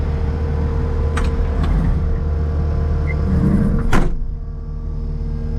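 Cab door on a Kubota SVL75-2 track loader thuds shut once, a single loud close over the steady low engine rumble of the idling machine, with a few fainter knocks before it.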